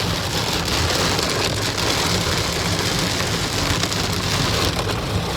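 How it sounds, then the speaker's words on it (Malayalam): Heavy monsoon-style rain pours onto a moving car during a downpour so dense the wipers cannot clear it, a loud, unbroken hiss and patter of drops on the roof and glass with no voices. "കണ്ണ് കാണാൻ പറ്റാത്ത മഴ ഉണ്ട."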